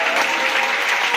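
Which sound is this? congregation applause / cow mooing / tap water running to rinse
congregation applause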